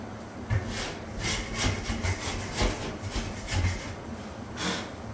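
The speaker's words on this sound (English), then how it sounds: "Gonna scrape it down a bit, clean the plug out of dust." A drywall knife scraping dried joint compound off a wall, a series of short rough scrapes in an uneven rhythm, close by and moderately loud with no talking.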